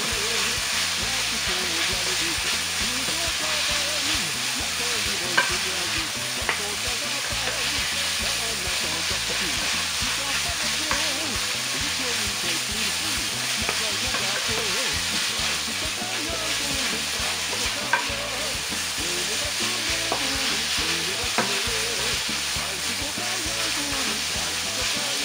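Sliced chicken browning in a pan gives a steady, dense sizzle that runs unbroken throughout with small crackles, close and moderately loud, with no speech over it.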